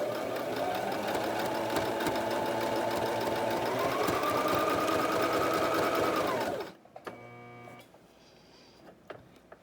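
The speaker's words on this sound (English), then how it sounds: "And I'm going to continue to sew." Sewing machine stitching an appliqué on a ribbon skirt, a fast continuous buzzing run for over six seconds that speeds slightly, then stops, followed by a few quiet clicks from handling the fabric.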